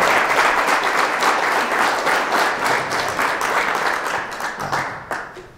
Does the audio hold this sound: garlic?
no